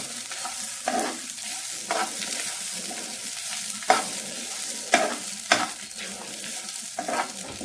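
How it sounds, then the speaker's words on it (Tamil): Grated coconut being sautéed in a pan on medium flame, with a steady soft sizzle and about eight regular scrapes of a spoon stirring through it, close and moderately loud. "அது வரைக்கும் வதக்கலாம் மீடியம் ஃப்ளேமில் வச்சு."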